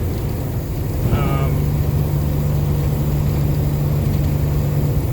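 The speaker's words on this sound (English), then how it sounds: "I love the engine, Series 60," A loaded truck's deleted Series 60 14-liter diesel engine runs with a steady low drone and a constant hum, close and loud, with a brief voice heard early on.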